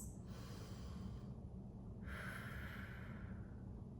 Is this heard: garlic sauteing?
no